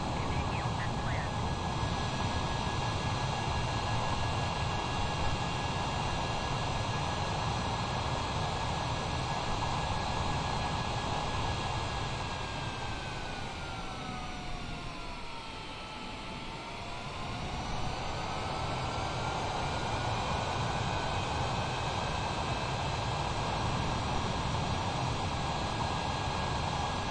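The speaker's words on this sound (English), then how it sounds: "Guys, soon we are going to land the plane." A fixed-wing airliner approaches to land at Miami airport, its engines a steady, loud roar with a high whine that dips in pitch midway as it passes, continuous throughout with no voices.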